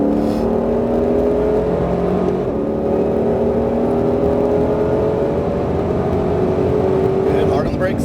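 A Ford Mustang Shelby GT500 accelerates hard on a Las Vegas race track, its loud, close engine drone rising steadily in pitch for several seconds before easing off near the end.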